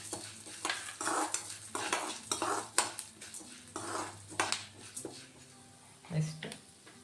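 Fenugreek seeds dry roast in a pan for moringa powder, stirred with a utensil that scrapes and clinks in a busy, repeated rhythm, close up and moderately quiet, with a faint voice briefly heard.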